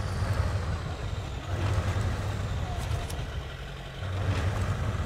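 A Duramax truck engine in the SnowRunner video game rumbles steadily at close range, its low drone swelling and easing as the throttle changes.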